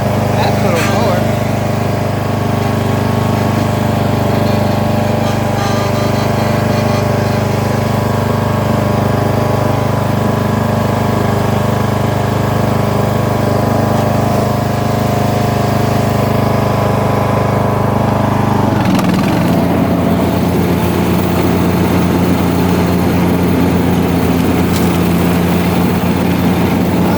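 A Craftsman Gold DLS3500 riding lawn mower engine runs loud and steady, then drops to a rougher, lower idle near the end while a person talks over it.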